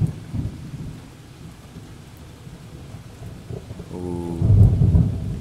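Thunder rolls and rumbles through an early morning storm with rain, a low rumble swelling louder toward the end over a soft, steady hiss of rainfall, with one brief voice exclamation.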